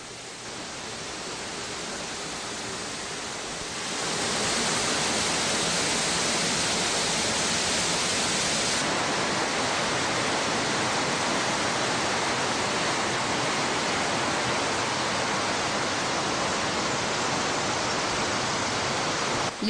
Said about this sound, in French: La cascade Guelta Zarqa est trop puissante et infiniment éblouissante.